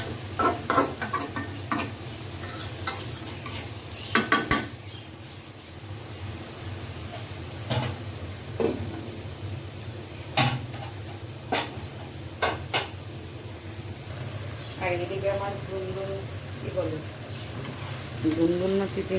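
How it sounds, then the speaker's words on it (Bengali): Fish sautéed and stirred in a pan, with repeated scraping and clanking strokes of a spatula over a soft sizzle, and a voice talking in between. "হালকা একটু কষাই নিব মাছগুলো দিয়ে"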